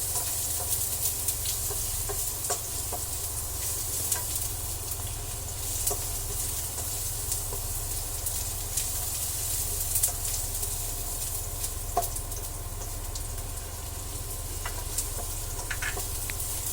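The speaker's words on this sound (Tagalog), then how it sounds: "Gisa po natin ang luya hanggang sa lumabas yung kanyang aroma." Ginger sautéing in cooking oil in a pan, a continuous bright sizzle with a low background hum and occasional soft clinks and stirring sounds, steady and close throughout.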